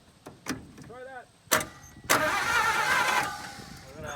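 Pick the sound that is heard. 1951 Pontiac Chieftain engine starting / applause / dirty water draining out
1951 Pontiac Chieftain engine starting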